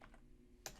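Typing on a computer keyboard while text is entered into a web page: a faint background hum, then two quick, close key clicks in the final moments.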